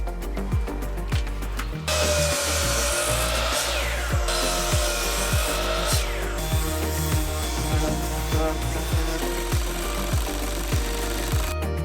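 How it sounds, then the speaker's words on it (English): Power saw cutting wooden top rails for a tiny deck, a steady loud whine running nearly throughout, broken by a brief pause early on, with repeated knocks and clunks of handling in between. "we are gonna get those top rails all cut"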